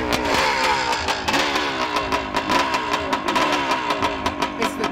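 A dirt bike engine running close by, a steady loud buzzing drone with rapid repeating pulses and slight rises in pitch throughout.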